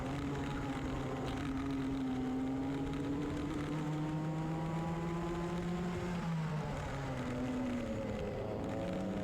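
Club100 Sprint60 go-kart engines race at Llandow, a steady buzzing whine close by, the pitch rising and falling as the kart accelerates and brakes through corners.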